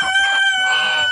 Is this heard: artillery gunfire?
no